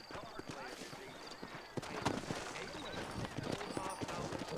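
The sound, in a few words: horse hooves clip-clopping in video game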